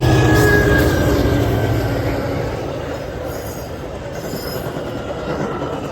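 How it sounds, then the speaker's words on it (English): A train rolls past on the rails, loud and close at first with wheel squeal and clatter, then easing slightly but staying steady throughout, with no talk over it. "We got another train coming."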